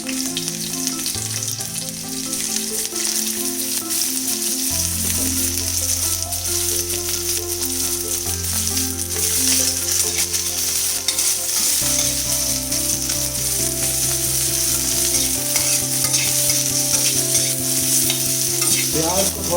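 Green chillies and onion fry in hot oil in a pan while pasta is being cooked, giving a steady, close sizzle with stirring scrapes and light clatter, accompanied by a continuous music bed.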